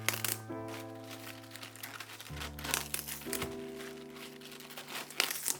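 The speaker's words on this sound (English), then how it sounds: "Take 4 Napa cabbage leaves." Napa cabbage leaves are handled in a home kitchen while cooking: crisp, close crinkling and rustling comes in irregular bursts over steady background music, with no talking.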